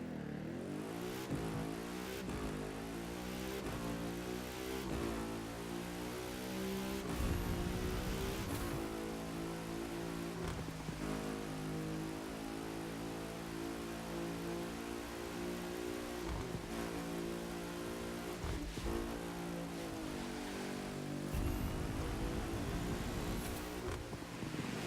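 An Audi RS5 engine in the racing game The Crew 2, with a continuous loud harmonic drone that rises and falls through repeated gear shifts, heard with no speech.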